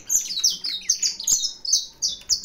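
Saffron finches in a breeding aviary chirp busily, a close flurry of bright, overlapping tweets and short trills repeating in quick bursts with no talking.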